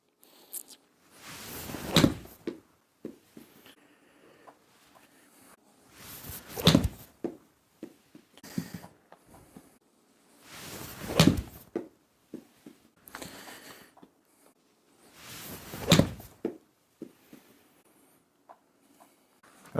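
Four golf shots with a Titleist Pro V1 ball, each a swishing swing and strike arriving at regular intervals of a few seconds, fairly close, with quiet rustling between them.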